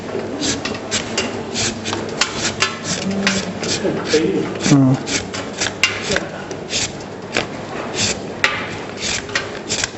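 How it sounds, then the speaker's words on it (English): Mondia whytei root being chipped or grated by hand, a steady run of close, scraping, knocking strokes in quick rhythm, with a person talking over part of it. "So we get the root and chip it. You either chip it or you grate."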